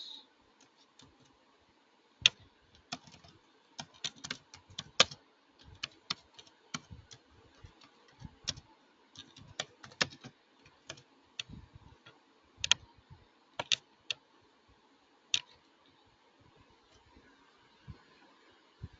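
Someone types on a computer keyboard, irregular bursts of light key clicks and taps close by, alternating quick runs with brief pauses, with no talking.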